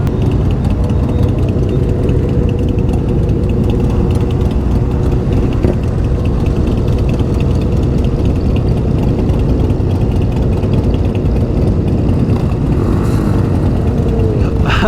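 A Harley motorcycle engine runs steadily at a gas station, a continuous low rumble near and loud through the whole stretch, idling and pulling away without pause.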